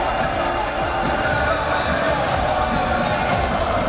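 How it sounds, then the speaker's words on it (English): A dense, steady roar of a large esports crowd filling an arena at a Call of Duty: Warzone championship final, loud and continuous with no pauses. "I know you can hear the crowd"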